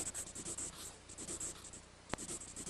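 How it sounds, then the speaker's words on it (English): A pencil scratches steadily across a pad of paper in short repeated strokes, close and soft, with one brief sharp tick near the end. "First we'll get a pad of paper, a pencil, and then we'll draw a Care Bear."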